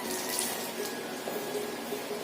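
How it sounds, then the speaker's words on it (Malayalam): Water is poured into flour to make dough for Kerala-style madhura seva, making a short, faint, steady trickling hiss with no talking. "കുറച്ച് വെള്ളം ഒഴിച്ചങ്ങ് കുഴച്ചാൽ മതി."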